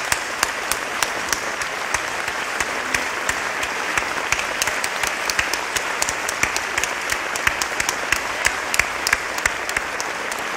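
A theatre audience in Amsterdam's Meervaart applauds at a tribute concert, a steady wash of clapping punctuated by sharp, distinct individual claps close by, no talking over it.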